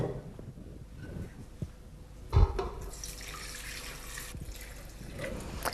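Water running from a tap into a pot for a stew with a bunch of mountain and garden herbs, an apple, an orange and a head of garlic, a steady close splashing stream lasting throughout with a brief clunk partway.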